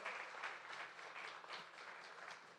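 Audience members at a live fashion show and auction applaud together, a dense, faint wash of clapping sustained for a few seconds without pause.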